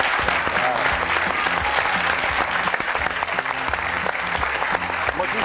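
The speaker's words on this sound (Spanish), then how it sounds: "Un gran aplauso, señores." A television studio audience breaks into loud, continuous applause at the close of a talk show segment, with a musical bed running underneath the clapping.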